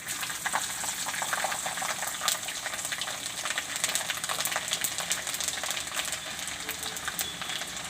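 Cumin, asafoetida and garlic fry in hot oil for a Gujarati kali mali bhaji, giving a dense, steady crackling sizzle close up with no talking.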